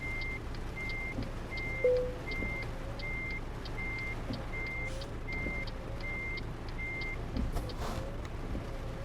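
A truck in Euro Truck Simulator 2 reverses, its backup alarm beeping in an even, steady rhythm over a low engine rumble, with a brief air-brake hiss and a few clunks.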